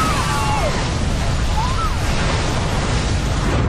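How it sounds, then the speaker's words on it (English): Gas ignites with explosive force inside a burning aircraft cabin during the Air Canada Flight 797 fire, a loud, dense, continuous roar that fills the whole stretch without a break. "The gas is ignited with the force of an explosion."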